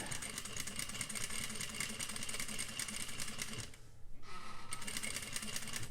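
A sewing machine stitches fabric for a railroad zipper, running in a close, steady rapid whir that dips briefly for a moment, then carries on.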